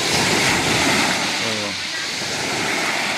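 Strong waves break at high tide on a Samal Island beach where people swim, a loud, unbroken roar of surf close by, with a short tonal blip partway through.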